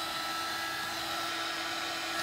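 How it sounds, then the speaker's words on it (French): A heat gun blows steadily while drying colours on a scrapbook page, a loud, continuous close-up whoosh with a faint motor whine, unbroken and without voices. "Je vais venir sécher au heat gun"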